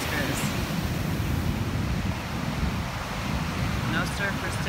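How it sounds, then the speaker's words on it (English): Heavy winter surf pounding a beach on the California coast between Monterey and Santa Cruz, a dense continuous roar of breaking waves mixed with wind rumble on the microphone, loud and unbroken. "the surf here is monstrous"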